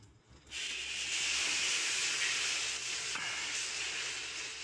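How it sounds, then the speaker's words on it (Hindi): Semolina dosa batter cooking on a wood-fired clay stove, giving a loud steady sizzle and hiss that starts suddenly and carries on without pause, close by. "सूजी डोसा बनत बा"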